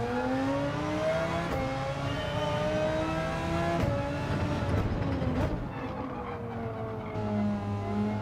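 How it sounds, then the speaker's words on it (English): Racing car engine in Gran Turismo 7 revving hard and continuously, its pitch climbing and dropping through gear changes across a steady, loud drone with no talk over it. "Better just to rev it out."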